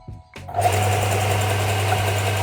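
A Procraft BDS380 disc-belt sander switches on after a click, spinning up quickly to a steady, loud motor hum with whirring belt noise held constant to the end.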